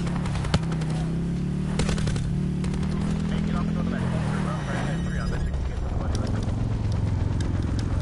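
Pistol shots in a Blackout mode video game, a string of sharp cracks at irregular intervals under a steady engine-like drone and clattering footsteps, with game sound effects throughout.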